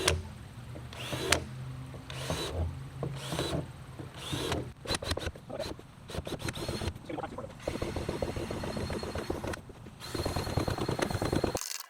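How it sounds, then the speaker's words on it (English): A power drill bores holes into a plastic bait tank, with repeated bursts of whirring and grinding that stop and start across the stretch, close and fairly loud, with no talk. "get all the holes drilled first, and then after that we'll chop the top off"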